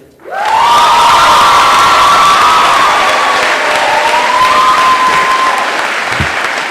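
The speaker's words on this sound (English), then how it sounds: "give a big round of applause to our counselor, Ms. Smith" A graduation ceremony crowd at The Berkeley Institute bursts into loud applause for the school counselor, Ms. Smith, with cheering and whoops riding over dense, sustained clapping that stays strong throughout.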